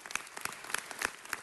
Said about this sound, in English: So let's give them all a round of applause for their work in leading